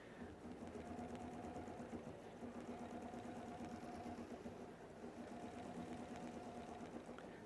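A Bernina 990 sewing machine stitching, a low, even mechanical whir with a faint rapid rhythmic tick, steady for several seconds and quiet, with no talking.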